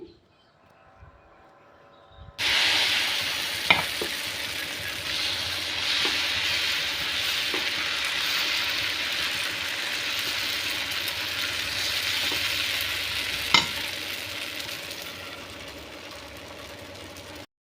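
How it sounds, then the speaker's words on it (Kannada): Butter and dosa batter sizzle loudly on a hot griddle while a Davangere benne dosa is made. The crackling frying noise is steady and close, with a few sharp pops and faint scraping, and no talk over it. "ಒಂದು ಕಾದಿರೋಂಥ ಹಂಚಿಗೆ ನಾನಿವಾಗ ಮೊದಲಿಗೆ ಬೆಣ್ಣೆನ ಹಾಕ್ತಾಯಿದ್ದೀನಿ"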